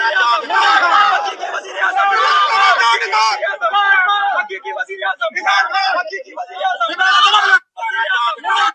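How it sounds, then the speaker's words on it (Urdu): A large protest crowd chants and shouts slogans together, loud and dense, in an unbroken wall of voices that sustains throughout with a brief dip near the end. "ادھر نعرے بازی یہ کی گئی، سنیں"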